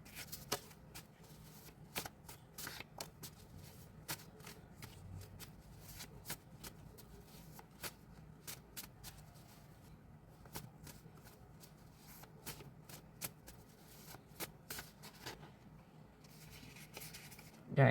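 A deck of tarot cards is shuffled close up, soft riffling and tapping flicks repeating in irregular bursts against a quiet background.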